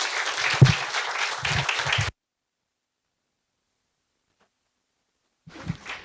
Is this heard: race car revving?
no